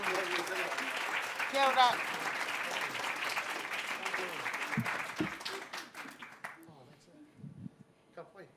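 Audience applause at a Māori research symposium, a sustained round of clapping from a crowd that tapers off near the end, with a voice speaking briefly during it.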